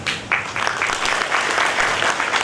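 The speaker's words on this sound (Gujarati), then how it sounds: "એકવાર જોરદાર તાળીઓ થઈ છે." An audience at a motivational talk by diamond businessman Govindbhai Dholakiya breaks into loud, sustained applause, a dense, close burst of many hands clapping that swells quickly and holds steady.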